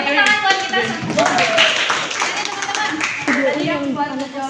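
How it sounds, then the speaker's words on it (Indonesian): Audience at an outreach session bursting into applause, with dense clapping from a group mixed with voices talking and calling out over it. "Mari tepuk tangan buat kita semua"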